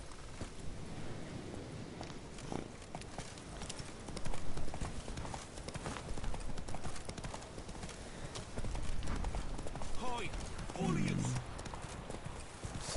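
Roach the horse gallops in The Witcher video game, with steady, fast hoofbeats that stay close and loud throughout. Voices and game sounds run over and under the hooves.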